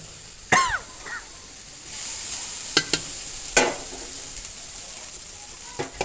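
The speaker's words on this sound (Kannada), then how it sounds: "ಇಷ್ಟೆಲ್ಲ ಆದಮೇಲೆ ಸ್ಟವ್ನ ಆಫ್ ಮಾಡಿಬಿಟ್ಟು ರೈಸ್ನ ಆ್ಯಡ್ ಮಾಡ್ಕೊಳ್ಳೋಣ" Cooked rice is added to fried vegetables in a pan and stirred. A few sharp spoon clatters and scrapes land over a faint steady sizzle.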